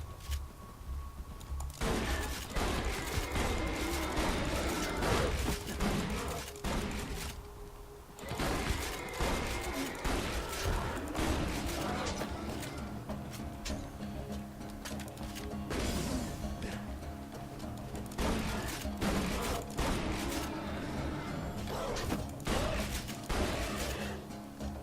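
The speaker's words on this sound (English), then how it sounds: "the impact of my shotgun when I kill this bully" In the video game Borderlands 2, shotgun blasts and impact crashes kill an enemy amid dense, continuous gunfire, smashes and mechanical clatter, loud and busy for the whole stretch.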